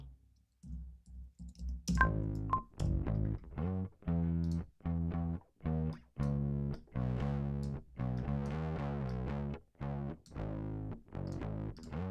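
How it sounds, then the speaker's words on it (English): A gritty bass with clip distortion plays a chopped rhythmic line of short repeated notes, loud and up front with no voices. "open up clip distortion"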